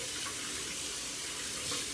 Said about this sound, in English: So now you turn on cold water